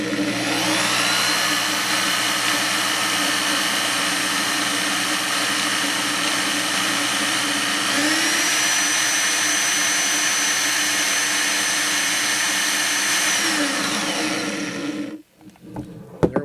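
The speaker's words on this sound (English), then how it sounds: "You start in with your drill, and I recommend using a variable speed drill" A variable speed drill winds fluorocarbon line onto a bobbin with a steady, loud, close whine that shifts pitch slightly midway, running continuously for about fifteen seconds before cutting off abruptly.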